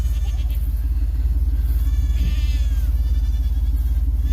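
Goats and young kids bleat on a farm during early-morning loading for a sale, several wavering calls overlapping near and far over a heavy, steady low rumble of a running engine.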